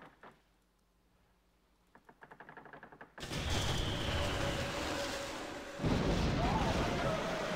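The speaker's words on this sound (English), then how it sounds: "I'm going to continue bombarding him" Ship cannon bombardment in Sid Meier's Pirates: a few quiet thuds, then a sudden loud blast that gives way to a sustained booming rumble, with a second surge near the end.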